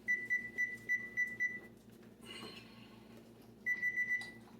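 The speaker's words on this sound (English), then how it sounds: "as you guys can hear, the beepers going off." Kitchen timer beeping while a cast iron pizza bakes: a bright, evenly spaced run of short beeps, a pause with a brief clatter, then the beeping starts again, close and clear with no talking.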